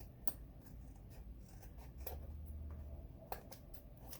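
Scissors trimming the paper edge of a handmade notebook: a few sharp, quiet snips spaced irregularly over a faint low hum, close and soft, no speech.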